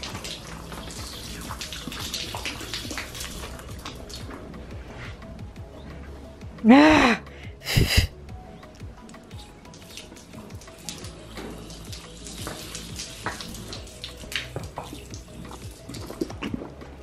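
A water hose showering a horse outdoors, a steady spray and dripping close by with brief louder bursts midway, and a short exclamation from a person.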